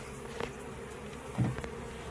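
Honeybees buzz around newly installed nuc hives on a farm, a faint steady hum with a few brief nearer passes and soft handling knocks.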